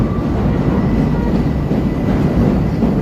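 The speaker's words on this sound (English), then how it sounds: "Here comes the elevated trains here." Chicago's elevated Green Line train rumbles past close by with a loud, steady roar and faint clatter that stays unbroken.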